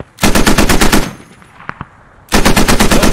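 Machine gun fire in the video game Post Scriptum, two loud close bursts of rapid evenly spaced shots separated by a short lull with a couple of distant single cracks.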